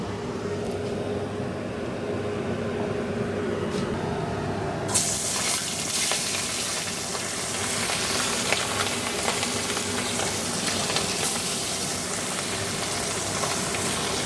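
Fish hits hot oil and a loud, steady sizzle fills the rest of the stretch, close and continuous, after a few quieter seconds of low kitchen hum.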